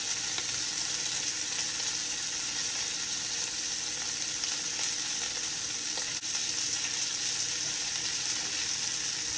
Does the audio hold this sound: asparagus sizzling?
yes